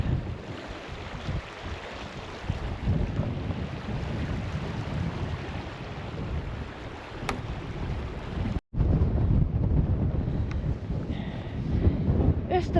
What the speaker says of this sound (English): And the wind is still so heavy.